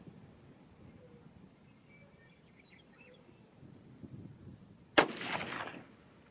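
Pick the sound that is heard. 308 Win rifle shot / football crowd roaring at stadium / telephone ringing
308 Win rifle shot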